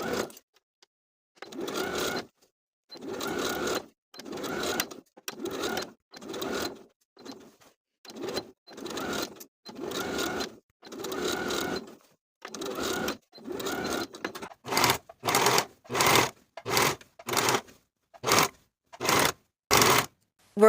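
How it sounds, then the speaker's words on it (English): Sewing machine stitching a shirt sleeve seam with a 3/8 inch allowance, in short close bursts of rapid needle clatter separated by pauses, the bursts becoming quicker and more regular toward the end. "Then we can sew to secure the sleeve in place with a 3/8 inch seam allowance and finish the raw edges together."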